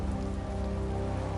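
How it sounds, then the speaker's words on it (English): Rain pours steadily in the Tales of Vesperia video game, a dense, constant hiss of drops on surfaces with a low rumble beneath, even and unbroken. "It's raining after all."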